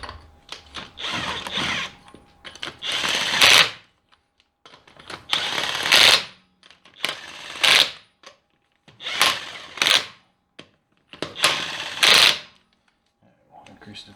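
On a 2022 Nissan Frontier, a power tool snugs down the wheel nuts in about six separate rattling bursts, each a couple of seconds long with short pauses between them, close by.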